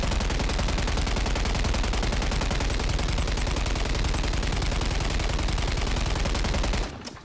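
A light machine gun fires in Call of Duty MW3 Warzone, one unbroken, loud, rapid burst that lasts several seconds and then cuts off abruptly.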